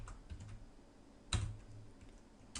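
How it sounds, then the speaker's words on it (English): Quiet keystrokes on a computer keyboard as a command is typed, a few soft clicks with one sharper key press in the middle, close and faint with no voice. "Then you want to type no shutdown."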